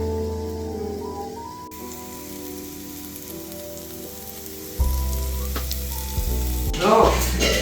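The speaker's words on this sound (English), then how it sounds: "we are sauteing the onions, chili, garlic until it becomes light brown" Onions, chili and garlic sauté in a pan, a steady dense sizzle with crackling that grows louder toward the end, over a low background hum and without talk.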